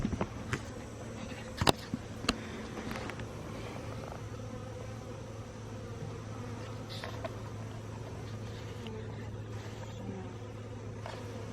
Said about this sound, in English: The bees are coming out,